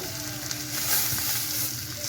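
Paneer cubes and vegetables frying in a pan with spice masala, giving off a steady, close sizzle with soft stirring scrapes and small pops, with no voices.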